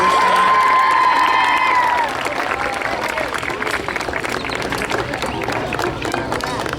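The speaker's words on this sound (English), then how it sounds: "Give Guido a big hand clap." Audience applause and cheering at a live show, loud and dense at first with whistles and shouts over the clapping, then easing to steady clapping with scattered cheers for the rest.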